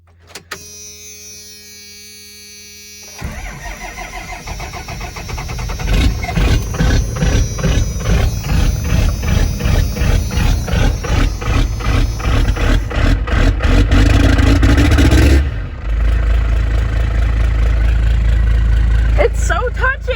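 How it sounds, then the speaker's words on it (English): A 12-valve diesel engine in a third-generation truck cranks over and catches, settling into a loud, steady clatter with repeated revs that swell and drop, close by, with brief talk nearby. "It is time, for I am going to start the 12 valve."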